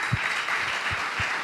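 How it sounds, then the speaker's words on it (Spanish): A church congregation claps for a speaker being welcomed to the front, a dense, steady patter of applause with a few low thumps underneath. "recibamos con un fuerte aplauso a Moisés"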